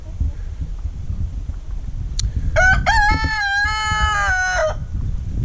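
A rooster crows once, a long wavering cock-a-doodle-doo, fairly close over a steady background rumble.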